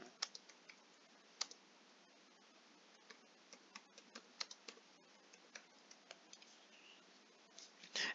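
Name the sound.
typing on a computer keyboard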